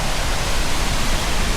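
Waterfall on a chilly outdoor hike, a loud continuous broadband roar of falling water, close and unbroken, with no voices over it.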